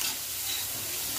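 Chopped spinach sautéing in oil, a dense continuous close sizzle with soft stirring texture, brief and without speech.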